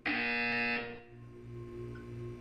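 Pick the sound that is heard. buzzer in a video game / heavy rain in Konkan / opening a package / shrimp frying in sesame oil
buzzer in a video game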